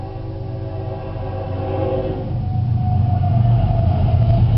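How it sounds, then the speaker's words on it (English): A steady, rising low rumble of a train rolling past nearby, with a faint tonal squeal growing louder as it continues. "Now I gotta wait for a train."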